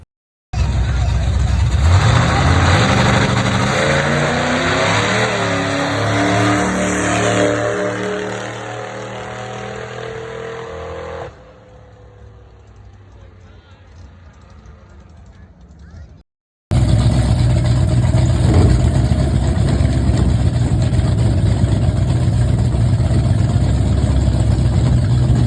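A 1967 Camaro drag car on small tires makes a drag strip pass, launching at 3,000 RPM and shifting at 4,500. Its engine roars loud and close, drops to a quieter drone, cuts out briefly, then returns at full, steady volume.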